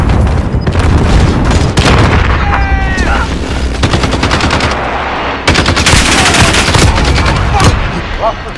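Precision airstrike in a military shooter: heavy bursts of machine-gun fire and booming blasts roll through, pausing briefly before a fresh loud barrage, with radio voice chatter mixed in.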